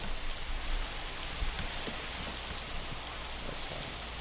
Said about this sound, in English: It's raining. Who turned on the rain?